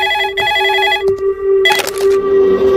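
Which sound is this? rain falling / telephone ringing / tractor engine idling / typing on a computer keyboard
telephone ringing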